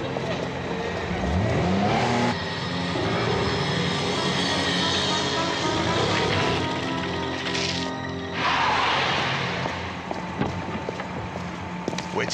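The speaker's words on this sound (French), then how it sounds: "Je fais le tour en voiture." A car drives around with a steady engine drone that rises and falls, passing through changing acoustics, loud and continuous with a brief pitch sweep early on; voices are faint or absent.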